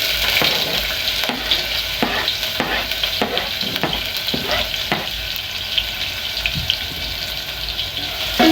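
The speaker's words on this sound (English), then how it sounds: "We add in our onions." Onions for plain pilau hiss and crackle steadily in a hot pot, a loud continuous sizzle broken by regular scraping stirs, close up with no voices.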